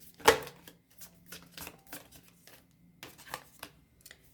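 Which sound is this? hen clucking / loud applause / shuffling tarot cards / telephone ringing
shuffling tarot cards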